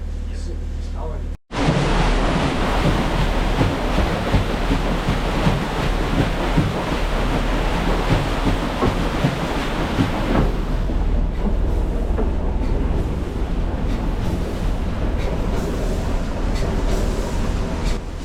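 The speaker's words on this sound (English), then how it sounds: "When the engines are going really slow like this, the big gears that play in between the teeth, they rattle and clang." Big gears of a slow-running steam engine on a paddle steamer rattle and clang in a continuous, loud metallic clatter after a brief sharp break near the start, with rhythmic knocking that eases slightly toward the end.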